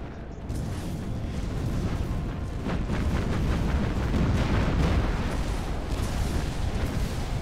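Naval gunfire directed at the battleship USS Indiana in Battlestations Pacific, heavy booming cannon salvos rolling continuously over several seconds, loud and dense with rumbling low-end blasts and no talk.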